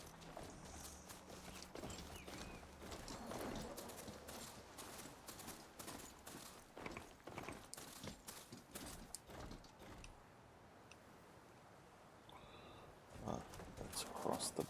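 Horse hooves clopping in Horizon Forbidden West, an irregular run of close hoofbeats across most of the stretch with rustling and game sounds, a voice talking intermittently over them.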